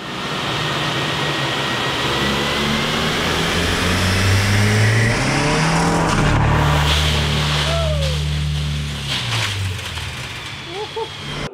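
A car engine fitted with a 100-shot nitrous kit revs hard on a dynamometer, a loud sustained roar that climbs and falls in pitch before cutting off near the end.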